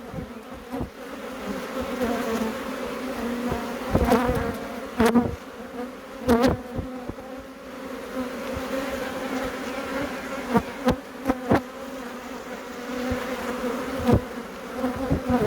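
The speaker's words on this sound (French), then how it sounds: "Les abeilles, vous évitez de passer devant l'objectif." A steady, dense hum of many honeybees buzzing close by around a hive, with louder individual buzzes swelling past the microphone every few seconds.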